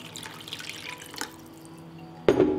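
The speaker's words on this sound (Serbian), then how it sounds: "Nalit ću sa vodom da prekrije sastojke." Water poured into a pot over chicken paprikash ingredients (chicken and vegetables), a soft dripping trickle followed by a brief louder splash near the end.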